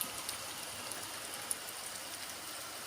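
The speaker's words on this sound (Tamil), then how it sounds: "டைம் ஆக கொஞ்சம் மழை தூறல் வந்து அதிகமாக தான் வருது" Steady drizzle turning heavier falls near a road, a fine continuous hiss of rain with a few faint drop taps, fairly quiet and even throughout with no talk.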